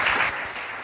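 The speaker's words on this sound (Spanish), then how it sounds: "Os ruego un aplauso para darle la bienvenida e iniciar esta conversación." Audience applause welcoming speakers at a panel talk on brands, a dense, steady wash of many hands clapping close by, dipping slightly in level partway through the brief burst.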